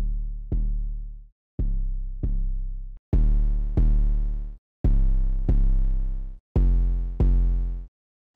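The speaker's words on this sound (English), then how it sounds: "Let me show you what the 808 sounds like without my distortion and then with." An 808 bass plays a repeating pattern of deep booming notes, clean at first and then distorted, with each hit becoming louder, fuller and buzzier in the second half. The notes are loud and close with short gaps between them.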